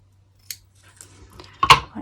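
A few sharp scissor snips cut through a small piece of white veil fabric for a crocheted amigurumi figure, isolated clicks in a quiet room with a louder double snip near the end.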